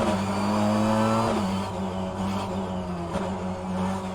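A race car circulates on the Daimler 2022 track in rFactor 2 at a relaxed pace, its engine a steady mid-pitched hum that dips with gear changes around the midpoint and later, smooth and close, with no speech.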